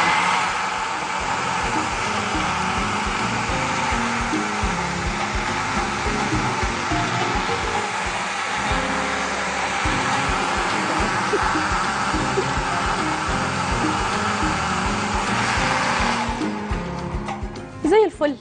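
A kitchen blender mixes sobia, a drink of milk, coconut and cold water, with a constant loud motor whir running for about seventeen seconds before it stops.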